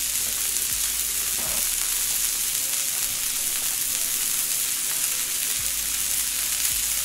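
Onions and peppers sizzle in a pan while a chopped cheese sandwich is cooked, a steady, loud hiss of frying that runs throughout with a few soft clanks of stirring and no talk.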